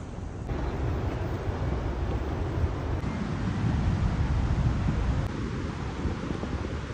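Niagara Falls at the American Falls roars with a steady, dense rush of falling water, loud and continuous throughout, with no voices over it.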